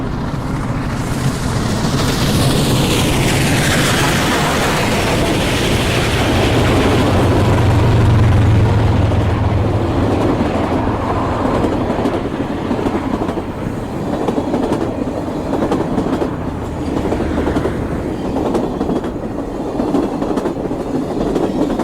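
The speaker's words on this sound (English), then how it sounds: "that's how trains are supposed to sound" A train rolls past on railroad tracks, heard up close from a camera placed between the rails, a loud sustained roar with rumbling wheels and clickety-clack running for the whole stretch.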